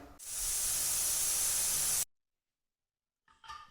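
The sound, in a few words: pressure cooker whistle releasing steam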